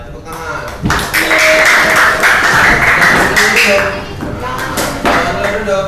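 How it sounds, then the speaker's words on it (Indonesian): An elementary school class claps together in a steady burst of dense, close applause that tapers off, with children's voices mixed in around it. "Selesai, tepuk tangan."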